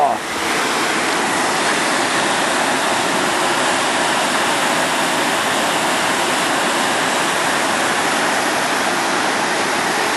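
A steam vent at Lassen boils off drained water with a continuous, loud, rushing hiss that holds steady and close for the whole stretch, with no other sounds standing out.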